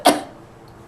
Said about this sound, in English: Oh, they're making me cough.